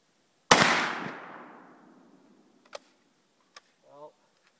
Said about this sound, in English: to fire 2, and these are going to be Dominion factory loads